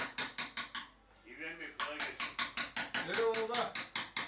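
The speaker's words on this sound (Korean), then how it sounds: "시장 한켠엔 아직도 장인들의 망치 소리가 끊이지 않습니다." Craftsmen in a market hammer bronze coffee-making utensils, a steady, bright metallic clanging struck in an even rhythm of close, ringing blows; the strikes pause briefly for a moment of muffled talk before resuming.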